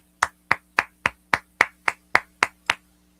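A single person clapping hands ten times at a steady, even pace, each clap sharp and close, with nothing else sounding between them.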